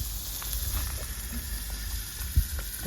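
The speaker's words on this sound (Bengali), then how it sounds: "এবার এর উপরে তেল ঢেল দেবো বাটার দিয়ে দেবো" Oil and butter sizzle and hiss steadily over hot coals for chicken kofta gravy in a rustic village kitchen, a continuous close frying crackle with one brief thump near the end.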